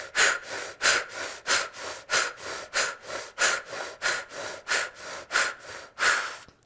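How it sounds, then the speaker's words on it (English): Forceful, rhythmic breathing in and out through the mouth during a guided meditative breathing exercise; a steady run of close, loud breaths repeats about twice per second with no talking. "The breath is only through the mouth, and it's a forceful inhale and a forceful exhale."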